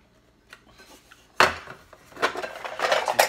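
A thin, easily bent aluminum survival cook kit has its lid pulled off with a sharp metallic clank, followed by lighter rattling and scraping of the nested parts, close up with no talk.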